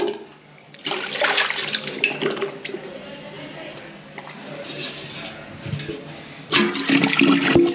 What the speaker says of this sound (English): let's get another bucket of water down these urinals and see if we've cleared it